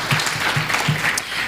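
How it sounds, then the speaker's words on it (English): Warm audience applause for a panel at an African regional workshop on positive masculinity, steady dense clapping from a room of people, fairly loud throughout with a faint voice or two underneath. "warm applause"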